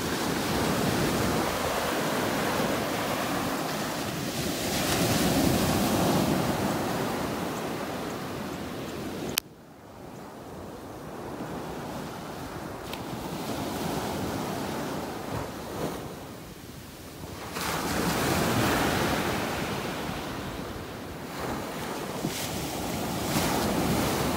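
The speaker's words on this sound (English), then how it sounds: "Just love these waves" Ocean waves roll onto a beach in North Naples, Florida at sunrise, a steady wash of surf rising and falling in long swells, with gusts of wind buffeting the microphone throughout.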